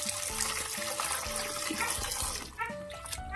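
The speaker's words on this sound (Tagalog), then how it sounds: "maghuhugas tayo ng isda" Fish are washed under running tap water, with a steady close splashing stream and some shifting gurgles as the fish are handled.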